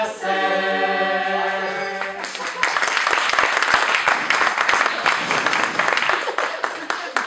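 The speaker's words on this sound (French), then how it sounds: "Voilà, on l'applaudit pour ses 20 ans." Church congregation at an evangelical Protestant service in Dunkerque applauding a 20th birthday, the tail of a sung tune giving way to several seconds of dense, lively clapping.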